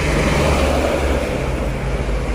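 A small bus passing on a road at night, a loud, steady engine and tyre rumble with broadband road noise that holds throughout without a clear peak.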